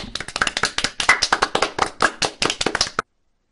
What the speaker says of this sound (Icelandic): klapp og hlátur utan úr sal